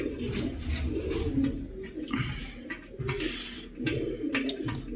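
Pigeons cooing at a village pigeon-flying competition, soft overlapping coos repeating in a low steady rhythm, close and fairly continuous with faint chirps above.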